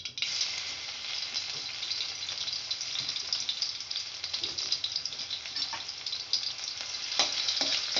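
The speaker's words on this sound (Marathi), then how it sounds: "मोहरी छान तडतडले, आपण त्याच्यामध्ये लसूण घालूयात." Garlic drops into mustard seeds spluttering in hot oil for aloo palak, raising a continuous close sizzle with scattered crackles and pops that runs steadily throughout with no voices.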